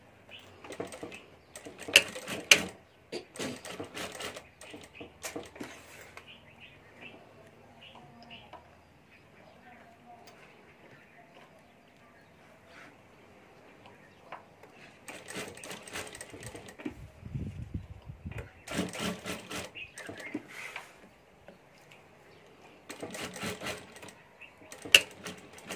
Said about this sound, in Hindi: तो यहाँ हमें ऊपर सिलाई करके यहाँ से बेल्ट जोड़ देना है हमें।